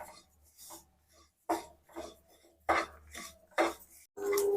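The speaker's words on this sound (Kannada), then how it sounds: "ಲೋ ಫ್ಲೇಮಲ್ಲಿ ಚಟಪಟ ಅಂತ ಇದೆ ನೋಡಿ" Flax seeds roasting in a pan over a low flame give off a few scattered crackles and pops, close and fairly quiet, spaced out irregularly with short gaps of near silence in between.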